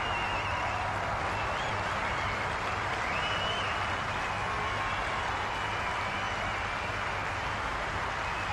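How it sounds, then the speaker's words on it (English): Golf crowd at The Open 2016 applauding Sergio Garcia as he walks up the fairway, a broad, sustained wash of clapping and cheering that holds steady and loud from start to finish. "Boy, is he going to get some applause as they walk up this fairway."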